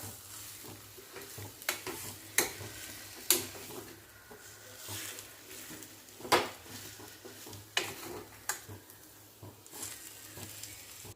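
A spoon stirs a spiced bread pakora mixture in a pan, scraping in uneven strokes with a few sharper clinks against the metal over a low, steady background hiss.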